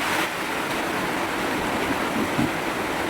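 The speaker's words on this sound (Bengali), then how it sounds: "এবার এক্ষুনি ঘরে জল টুকি গেলে আর কোনো ঘর থাকে ঠকানো যাবে না বিশাল জলের টান" Strong floodwater rushes past close to a house, a loud, constant broadband roar and churn with occasional splashy surges.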